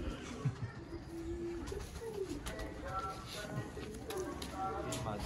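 Sialkoti pigeons coo in soft, repeated low calls amid light background chatter, with someone speaking over them.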